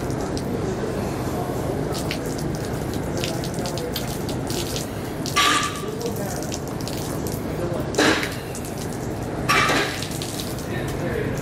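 Water sprayed to rinse mildew stain remover off a trailer surface, a continuous rushing hiss with a few brief louder splashes, close by.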